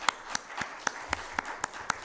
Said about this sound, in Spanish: Le damos la bienvenida con un aplauso a nuestro querido amigo Francisco Lara